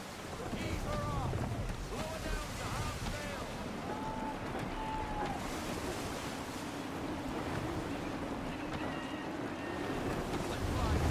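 Gusty wind and breaking waves surround a sailing ship in the Assassin's Creed 3 Remastered naval game, a loud continuous roar of wind and surf with whistling gusts and creaks, swelling at the end.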